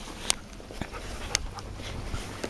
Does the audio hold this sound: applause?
no